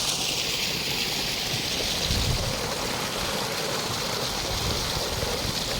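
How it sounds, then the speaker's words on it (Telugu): Water gushes into a farm field continuously with a loud, close, even rush that never lets up. "వాటర్ ఎట్లా పోతున్నాయి పొలంలోకి"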